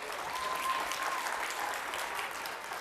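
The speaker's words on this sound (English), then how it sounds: "Round of applause for Michael." Steady audience applause fills a family science night event, a dense crowd clapping continuously at moderate volume with no break.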